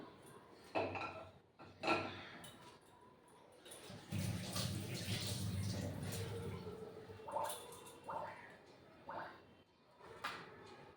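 A wok set down on a lit gas stove in a home kitchen gives a few sharp metal clanks and clatters, with a steady pan rattle in the middle stretch, close by.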